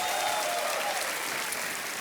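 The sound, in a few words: audience applause on TV quiz show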